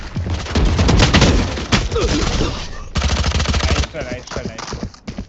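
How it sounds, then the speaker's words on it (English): A swarm grenade from the game Valorant goes off, with rapid rattling bursts of gunfire-like pops crackling loudly and densely across the clip, mixed with other game effects and voices talking. "Placing swarm grenade."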